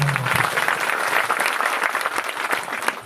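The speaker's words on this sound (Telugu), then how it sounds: "చప్పట్లు కొట్టి దేవునికి." A church congregation at the Siluvagiri festival breaks into loud, sustained applause, a dense continuous wash of clapping from a large crowd.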